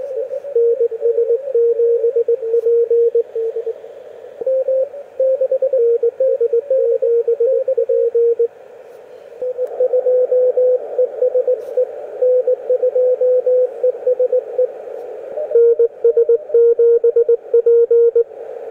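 CW Morse code tones from a Yaesu 857 radio, a steady mid-pitched beep keyed in short and long bursts with brief gaps, clear and alone over a faint hiss.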